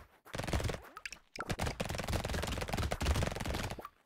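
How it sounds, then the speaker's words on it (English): Rapid SMG gunfire in the game Brotato chatters in dense, fast bursts with a short break between volleys, loud and close, with a few small pings scattered through the shooting. "SMGs shooting enemies"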